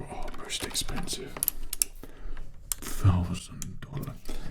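Keys clacking on a heavy, clicky $1,000 mechanical keyboard, close and crisp in an irregular typing rhythm, with a voice talking over parts of it.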